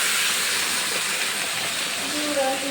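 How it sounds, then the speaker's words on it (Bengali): Chicken being stirred and mixed in a hot pan, heard as a loud, continuous hiss of steam and sizzling that fills the whole moment, with a faint tonal whine near the end. "তো মাংসটা একটু মিক্স করে নিলাম ভালো করে।"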